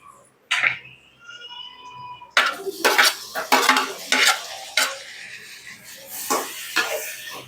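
Onions and tomatoes for kara kulambu being sautéed in a pan: a spoon scrapes and stirs against metal in uneven strokes, with clinks and a light sizzle, close and clear without talk.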